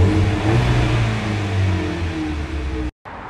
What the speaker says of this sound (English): Let's give this baby a few revs.